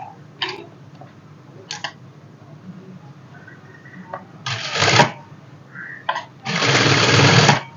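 A sewing machine stitching a single folded fabric edge for origami sleeves runs in short bursts, with two longer loud whirring runs near the end, close up, amid light ticks and handling sounds.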